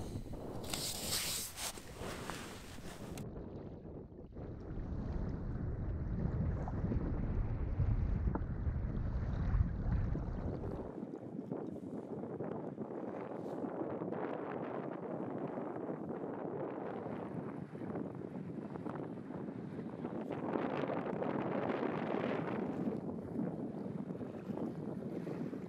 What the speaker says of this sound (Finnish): Tänään on ollut äärimmäisen tuulinen päivä.